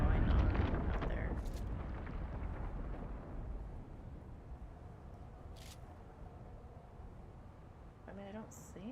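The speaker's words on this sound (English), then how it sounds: "There was explosions and stuff" A loud explosion booms in a Dune video game, a heavy low blast that rolls and fades over several seconds into a rumbling tail, with faint clicks near the end.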